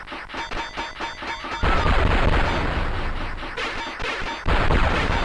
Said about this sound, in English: I'm going to shoot him and blow him up.